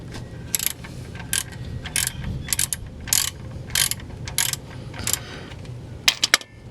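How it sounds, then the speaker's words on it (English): A 13mm socket ratchet loosens the oil drain bolt on a Ford Fusion, giving short bursts of close, crisp clicking. The bursts come in a steady rhythm of about eight strokes, ending in a faster flurry. "I also have a 13mm socket to remove our drain bolt here"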